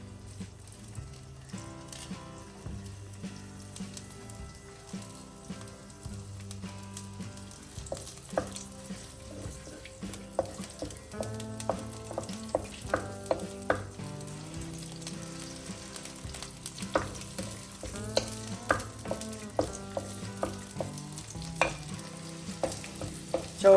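Chopped onions and curry leaves fry in oil in a pan for a Kerala tomato fish curry, with a steady soft sizzle under repeated clinks and scrapes of a spoon stirring, growing busier and louder toward the end; no talk.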